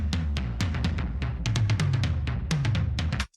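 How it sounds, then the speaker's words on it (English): Busy electronic jungle tom hits rolling in quick succession, pitched drum tones dense and loud for a few seconds before stopping abruptly. "These are the toms. Sounds like this."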